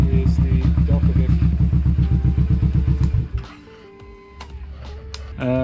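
A warmed-up Kawasaki Vulcan S motorcycle with a Delta-Vic exhaust idles loudly with a steady, lumpy pulse for a few seconds, then drops away to quieter rattles and clicks before rumbling back in.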